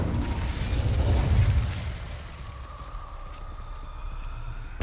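Fiery Incendio spell from Hogwarts Legacy on PS4 Pro: a broad roaring whoosh that swells over the first second and a half, then fades into a lingering crackling rumble.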